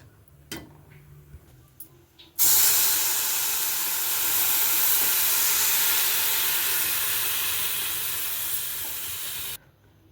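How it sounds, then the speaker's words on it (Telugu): After a few quiet clicks, a loud hiss erupts as water is poured into roasted wheat semolina in a hot pan for jaggery halwa, holding steady for several seconds before stopping abruptly. "ఇప్పుడు వాటర్ అయితే వేద్దాం ఇందులో"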